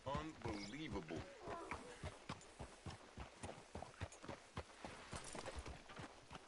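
Horse hooves clip-clop at a steady walking pace in the video game Red Dead Redemption II, close and fairly loud, mixed with game ambience and a voice talking over the rhythm.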